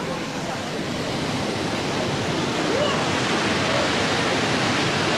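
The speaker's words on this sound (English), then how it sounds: "they led the way down to the base of the waterfall" Waterfall at a training site where black belts descend to its base, a steady broadband roar of falling water filling the scene without a break, loud and continuous throughout.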